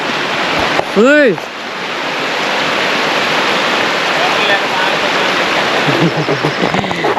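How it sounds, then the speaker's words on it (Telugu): Water flows past trees at a farm bathing spot, a loud continuous rushing wash, with a brief rising-and-falling whistling call near the start and softer tonal bursts toward the end. "నీళ్ళు చెట్లు ప్రవహిస్తున్నాయి"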